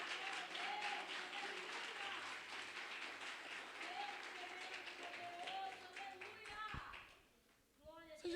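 A church congregation applauds steadily, a dense wash of clapping with voices calling out over it, fading near the end as a speaker resumes talking.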